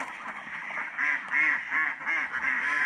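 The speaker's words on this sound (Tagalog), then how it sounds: "Ito yung mga natira sa ating itik." Several ducks quack in a rhythmic series of nasal calls, moderately near and fairly soft against a quiet background.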